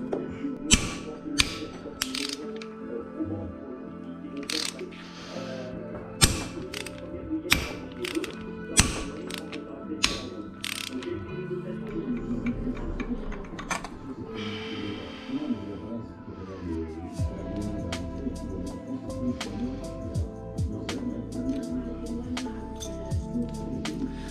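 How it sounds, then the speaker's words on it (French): Metal clicks, sharp taps and a ratcheting rattle come from working a large reverse-threaded 47 mm nut loose with a big adjustable wrench on an opened KTM RC8 engine, close and fairly loud with irregular bursts of impacts throughout. "le gros écrou de 47 aussi, là il est venu hein, avec la grosse clé à molette"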